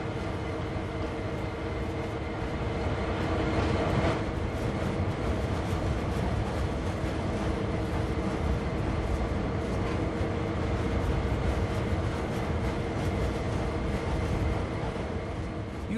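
A train with tank wagons rolls along a scenic branch line in a train simulator game, giving a steady, even rumble of engine and wheels throughout, with no voices.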